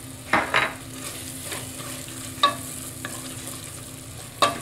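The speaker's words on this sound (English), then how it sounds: "I'm going to go ahead and add 2 cloves of garlic and let that saute" Garlic cloves and onions sauté in a pan, a soft steady sizzle with a few clinks and knocks of a utensil against the pan.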